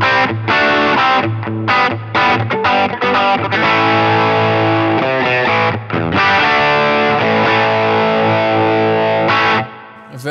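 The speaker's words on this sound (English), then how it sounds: "Very Tube Screamery kind of sound there." An electric guitar plays through a Line 6 POD GO preset with a Tube Screamer-style overdrive, loud and distorted, with strummed chords and a few short gaps before ringing out alone at the end.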